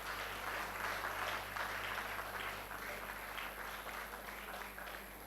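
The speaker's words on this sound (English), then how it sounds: "Please clap for her as she comes forward." Faint, distant applause from an audience at a medical laboratory science induction ceremony continues steadily for about five seconds as a graduate comes forward, under a constant background hum.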